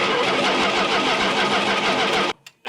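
A 1970 Dodge Charger that sat for 20 years cranks over with its starter, a loud, close, rhythmic churning that stops abruptly near the end without the engine catching.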